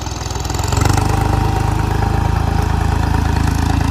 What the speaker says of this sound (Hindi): ट्रैक्टर इधर खड़ा है, जेसीबी ग्रेडर खड़ा है।